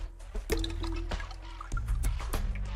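Water drips and splashes up close as a basketball is lowered into water, with a series of small, crisp drops and trickles over a steady low background.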